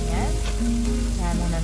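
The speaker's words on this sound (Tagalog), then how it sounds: "And now in our pan, we add oil. Okay. And we add our shrimp." Shrimp frying in hot oil in a pan for Chinese egg fried rice, a steady loud sizzle running unbroken throughout with faint tonal hum beneath.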